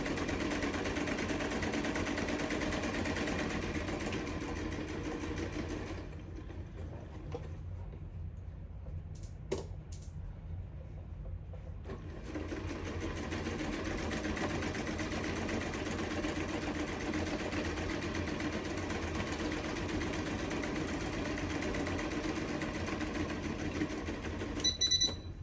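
A home sewing machine running a straight stitch on scrappy fabric for a belly band, a steady close mechanical whir with a short pause midway before the stitching resumes evenly.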